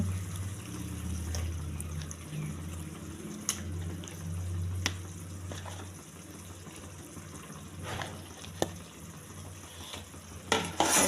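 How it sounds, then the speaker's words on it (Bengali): Chicken frying in oil in a palak chicken dish, a steady low sizzle with bubbling and occasional sharp utensil clicks as it is stirred, moderately quiet and close. "তেল ছেড়ে এসছে, এবার চিকেনগুলো দিয়ে দেবো।"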